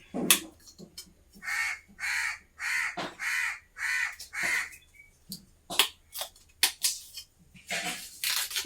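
A crow caws repeatedly in a steady series of harsh, loud calls, close by, followed by a few sharper scattered caws.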